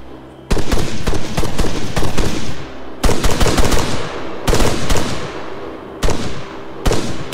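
Unsuppressed rifle fire in ArmA 3 at night, loud sustained bursts of rapid shots with a few short gaps between strings, sharp and close.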